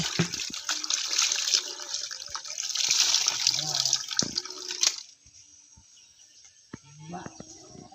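Water runs loudly from a hillside source during outdoor laundry washing, then abruptly slows to a thin, quiet trickle, with faint splashing and handling sounds.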